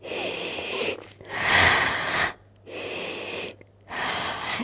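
Slow, audible breaths during a beginner Pilates exercise, alternating long inhales and exhales in a steady rhythm, each lasting about a second or more, with brief quiet gaps between them, close and fairly soft.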